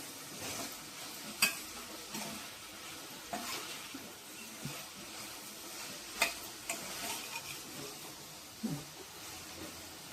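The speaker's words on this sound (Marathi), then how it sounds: "तर आपण भाजी चाळवून घेऊया" Ivy gourd being stirred in a pan, quiet scraping and light sizzling with occasional soft knocks of the spoon against the pan, faint and close.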